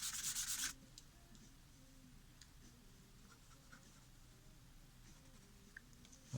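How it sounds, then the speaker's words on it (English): An eraser is pressed lightly against paper while shading a pencil drawing, giving a faint, soft continuous rubbing close by after a brief louder scratchy burst at the start. "I'm pressing down just a little bit with my eraser."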